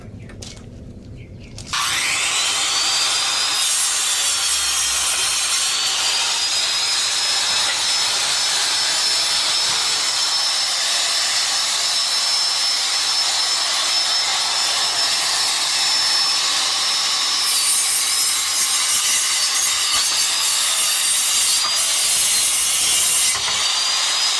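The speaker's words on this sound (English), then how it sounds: "I like to cut these about 1/4 inch in from this side piece so that my saw is not cutting this piece" A power saw cuts through pallet wood being broken down, starting abruptly after a brief pause and then holding a loud, continuous high whine and rasp throughout.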